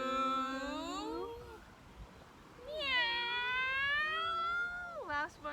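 A child imitates a cat's meow during a kids' yoga session, giving two drawn-out, sliding meows with a short pause between them, clear and close.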